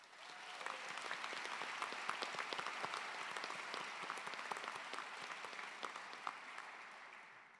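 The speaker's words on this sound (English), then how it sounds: "Please give them a big round of applause." Sustained audience applause for Physician Assistant faculty at a graduation ceremony, a broad continuous roar of many hands with sharp individual claps standing out, building quickly and fading slightly toward the end.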